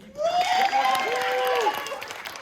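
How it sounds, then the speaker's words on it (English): At an improv comedy festival show, an audience claps and cheers to vote for a scene, loud crowd applause with whoops and voices rising over it. "So clap for the one that you want to see the most."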